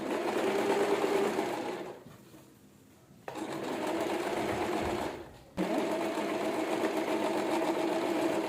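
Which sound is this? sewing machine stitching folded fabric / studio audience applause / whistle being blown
sewing machine stitching folded fabric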